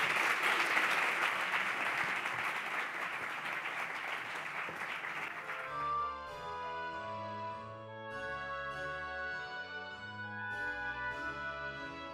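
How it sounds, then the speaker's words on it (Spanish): Audience applause at a conference on gender violence in digital spaces and video games, a loud dense clapping for about six seconds that ends abruptly as soft music takes over. "Un fuerte aplaudimiento para Eurídice."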